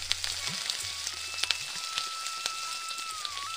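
Water lily stems frying with onions and powdered spices in a pan give a steady, soft crackling sizzle with scattered pops and light stirring clicks, close and moderately quiet, with no talking.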